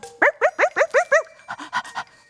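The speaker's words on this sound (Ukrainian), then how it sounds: "Вовк вовчик, це ти так голосно виєш." A wolf in a Christmas puppet show howls, voiced by a performer as a rapid series of six short, rising-and-falling yelping cries, then a rougher run of quicker yelps, loud and close with no other talk.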